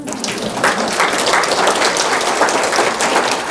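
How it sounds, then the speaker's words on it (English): An audience at a qigong healing retreat applauds in a sustained, fairly loud wash of clapping that sounds almost like steady rain, with no talking. "Give yourself applause."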